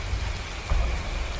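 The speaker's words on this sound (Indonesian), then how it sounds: "suara hujan deras kembali terdengar" Heavy rain pours in a dense, continuous hiss, loud and close, with a dull low rumble briefly swelling midway and no voices.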